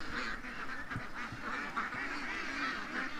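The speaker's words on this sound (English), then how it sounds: "I got a duck that I gotta catch." A duck quacking and honking in short repeated bursts at close range, with other fowl calling around it, no talk.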